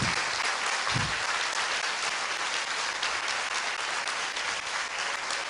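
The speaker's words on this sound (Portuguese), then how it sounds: "Vocês podem aplaudir o Senhor Jesus por isso?" Church congregation applauding together, a dense, steady wash of clapping from a large crowd that fills the room from start to finish with little change in level.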